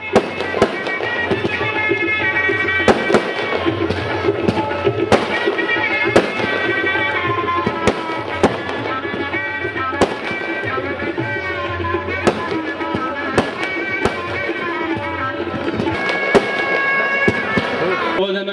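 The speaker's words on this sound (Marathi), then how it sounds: "फटाक्यांची आतिषबाजी" Loud fireworks and firecrackers at a birthday celebration crackle and pop continuously, with sharp bursts scattered throughout, mixed with music and voices in the background.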